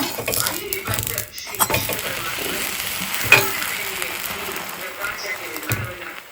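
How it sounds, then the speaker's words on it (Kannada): Butter sizzles softly on a hot pan as a three-slice bread sandwich toasts, with occasional scrapes and taps of a spatula and someone talking over the frying. "ಅದ್ರ ಮೇಲೆ ಬ್ರೆಡ್ ಇಟ್ಟಿಂದ ಟೋಸ್ಟ್ ಮಾಡೋಣ."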